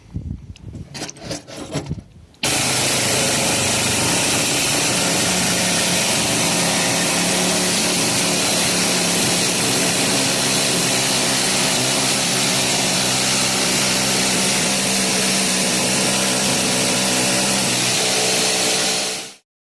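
A needle scaler cleans rust from a vehicle roof with a loud, continuous rasping chatter. A few short starts come first, then a long unbroken run that cuts off at the end.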